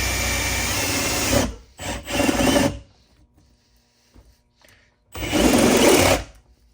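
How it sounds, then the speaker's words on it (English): A high-speed carbide cutter cuts a hole in the metal can of an automatic transfer switch enclosure, giving loud close whining bursts, one long and two shorter, separated by near silence. "With a high-speed carbide cutter, I'm going to make a hole in the can of this thing."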